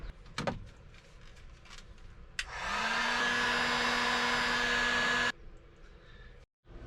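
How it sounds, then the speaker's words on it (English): Heat gun shrinking heat shrink tubing over a wire, switching on with a click and blowing a steady loud whine-and-rush for a few seconds before cutting off, with small handling clicks around it. "Just get a heat gun, put it over."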